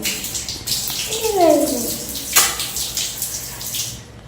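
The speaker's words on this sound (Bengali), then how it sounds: "আমি এই জলটা ঢেলে দিলাম" Water is poured out in a bathroom, giving a steady splashing wash with a brief rising gurgle, close and fairly loud, with a voice briefly audible.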